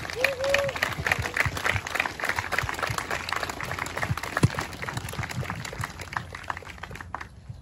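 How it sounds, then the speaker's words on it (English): An outdoor crowd at a Veterans Day memorial ceremony in Mare Island Naval Cemetery gives a long, scattered round of applause, individual claps audible within the steady patter before it tapers off near the end. "Could we give him a round of applause, please?"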